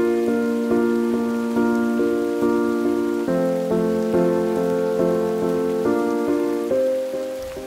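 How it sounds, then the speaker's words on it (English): Steady rain patters in a constant hiss behind music playing from an old speaker, with sustained chords clearly audible over the rainfall throughout. "Hey, Wes, raining or how?"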